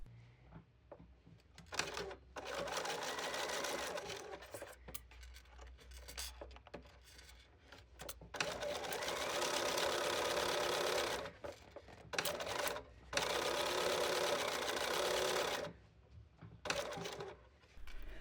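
A sewing machine stitches along a zip, starting with a few back-and-forth stitches, in several bursts of fast, even motor whirring separated by short pauses, close and fairly quiet.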